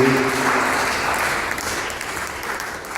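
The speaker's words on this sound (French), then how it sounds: "Applaudissez très très fort." Church congregation applauding loudly, a dense steady wash of clapping that fades slightly toward the end, with a brief voice at the start.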